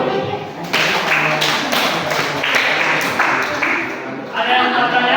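A classroom of students claps together at a teacher's call, a dense burst of hand claps in uneven waves that pauses briefly and resumes, with voices mixed in near the end.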